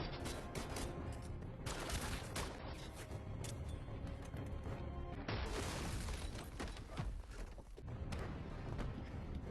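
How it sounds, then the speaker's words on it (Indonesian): Dense gunfire rages through a shootout in an action film, with rapid overlapping shots, booms and crashing impacts forming a continuous loud fusillade with only brief breaks. "Aksi tembak-menembak pun terjadi"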